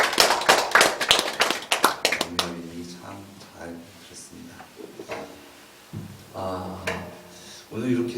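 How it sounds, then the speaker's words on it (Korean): A church congregation on Parents' Sunday claps in encouragement after a mother's hymn: a dense burst of close, crisp applause for about two seconds, then it stops and a voice speaks over a quieter room. "다시 한번 격려의 박수 부탁드립니다"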